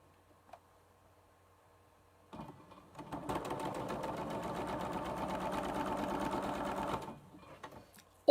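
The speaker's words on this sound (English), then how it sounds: "then you stitch along that line there" A sewing machine stitching a quilt block runs in a steady, close whirring drone for several seconds, with a brief start-up before it and a short stop after.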